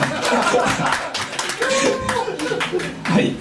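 Scattered clapping from a small live-music crowd for a band member at a Japanese club gig, uneven hand claps mixed with chatter and laughter close by.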